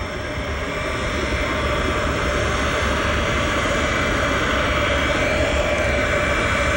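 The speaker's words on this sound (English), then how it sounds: "Here comes the president's plane. It is coming into view right now. Air Force One taxiing." Air Force One, the presidential jet, taxiing at the Quad City Airport in 1988, a loud steady engine roar with broadband whine filling the whole stretch without a break.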